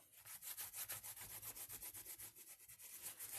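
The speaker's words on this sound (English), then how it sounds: "And just rub off any of the paint that's sitting on the embossing" A painted towel rubs stray paint off raised embossing on a stamped card background, giving a steady run of fast, close scrubbing strokes in a regular back-and-forth rhythm, with no talking.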